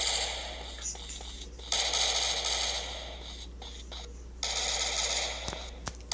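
A rapid-firing starter gun in a Counter-Terrorist shooting video game lets off bursts of crackling automatic fire, with quieter gaps and shuffling game sounds between the volleys.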